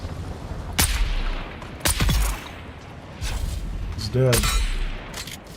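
Gunfire in the survival shooter Dune Awakening, a few sharp shots spaced a second or so apart over a rumbling game background, with a voice speaking briefly between them.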